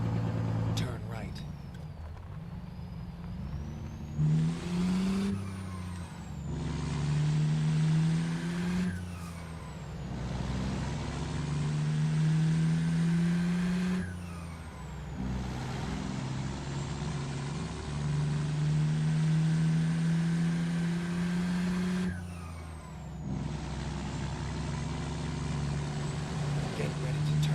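A car engine in a video game, fitted with a turbo and a big blow-off valve, drones steadily with rising whine and periodic sharp releases between gear shifts over several cycles.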